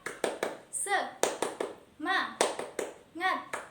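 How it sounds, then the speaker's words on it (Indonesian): Schoolchildren in a classroom do a rhythmic spirit clap, sharp claps in short bursts alternating with high chanted children's voices, loud and close. "Sekarang silahkan berdiri, kita tepuk semangat"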